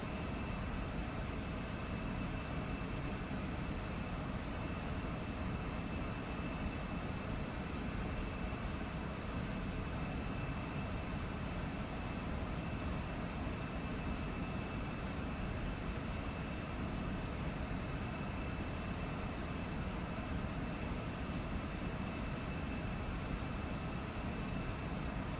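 An Embraer E175 jet climbs in the X-Plane 12 flight simulator game, giving a constant, even roar of engine and airflow with faint steady tones on top, unchanging for the whole twenty-five seconds and free of talk.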